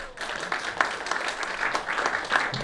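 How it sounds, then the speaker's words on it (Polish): Applause from the crowd at the opening of the fourth Polish community freedom picnic in Bury near Manchester, a brief, fairly soft patter of clapping heard alone. "Wielkie brawa!"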